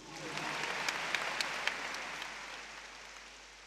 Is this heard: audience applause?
yes